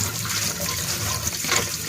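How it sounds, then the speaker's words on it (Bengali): Running tap water splashes and trickles steadily while fresh coriander leaves are rinsed in a home kitchen, a continuous close wash with no voices. "এখন ধনেপাতাটি ধুয়ে নেব।"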